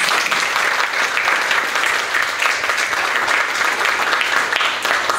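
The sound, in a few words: audience applause at Buddhist talk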